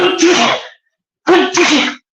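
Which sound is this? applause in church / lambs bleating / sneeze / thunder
sneeze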